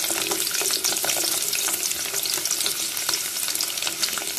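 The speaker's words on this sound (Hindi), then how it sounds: "हमने एक अलग बर्तन में 3 से 4 चम्मच ऑयल के डाले थे और इसको गर्म होने के लिए रख दिया था। अब हम इसमें डालेंगे लहसुन।" Garlic frying in three to four spoons of hot oil until light golden brown, a loud, continuous close sizzle with crackling spatter and occasional stirring, no voices.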